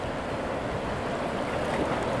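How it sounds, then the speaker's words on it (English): Water released from the Prairie du Sac dam roars in a steady, dense wash of rushing spray, loud and continuous throughout with no break or talk. "Said the water they're releasing from the dam"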